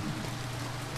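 Steady rain ambience from the video game To The Moon, a soft continuous wash of falling drops at even level with no talk over it.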